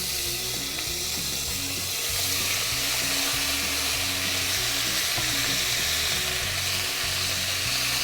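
Louisiana purple pod green beans fry in a little oil in a pan, a steady close sizzle with intermittent scraping and clanking as they are stirred, no talk.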